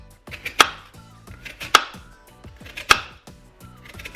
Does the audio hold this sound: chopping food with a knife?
yes